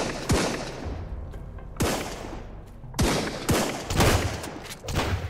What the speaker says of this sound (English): I don't know where from he is shooting